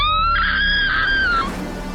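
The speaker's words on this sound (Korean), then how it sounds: "누가 비명을 지른 거예요?" A person screams inside a house: one loud, sustained, high-pitched scream that holds steady for over a second, then breaks off, followed by a fainter rushing noise.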